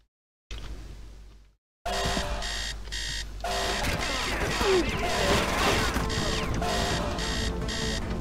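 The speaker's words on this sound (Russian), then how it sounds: "А будильник звенит." An alarm clock rings inside the 2006 Oxide video game Yakuza Revenge, its loud, steady pulsing ringing mixed with crashing game sounds after a brief silent gap.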